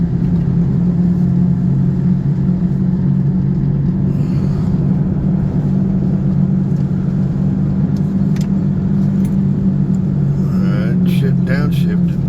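A Chevrolet Monte Carlo SS drives along with a steady, droning engine rumble heard from inside the cabin, holding an even, continuous tone while cruising.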